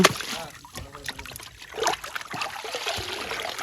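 Freshly netted fish washed outdoors, with water trickling and splashing in uneven bursts close by, while voices talk over it.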